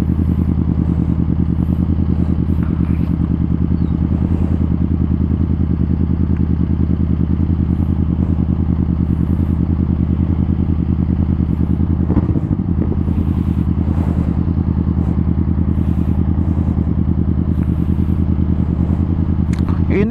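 A Honda Rebel 500 cruiser motorcycle engine hums steadily at low revs while riding, a constant close drone with occasional clatter and faint background noise.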